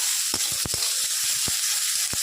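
Diced onion sizzles steadily in hot oil in a pan while a few sharp spatula knocks and scrapes stir it at uneven intervals, close and clear.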